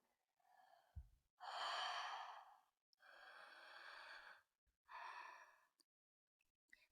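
Slow, deliberate breaths during a mindfulness exercise: three long, airy exhalations in sequence with quiet pauses between, close and clear with no talking.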